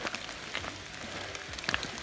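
Steady light rain falls outdoors on a mild night around twelve degrees, a soft continuous patter with a few sharper drips close by and no voices.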